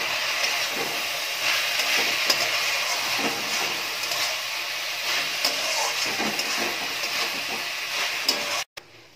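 Drumstick flowers frying with potato and eggplant in a pan give a steady, loud broadband sizzle and hiss that runs on evenly, then cuts off abruptly near the end.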